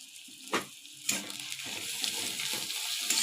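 Ginger garlic paste hits onions frying in a pan, setting off a sharp sizzle with a few clicks of a spoon or lid, then a steady crackling fry that continues softly and close.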